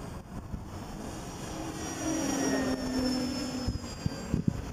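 Parkzone Corsair and T-28 radio-controlled model airplanes make a low flyby in formation, their small propeller motors whining and swelling as they pass, over outdoor wind noise.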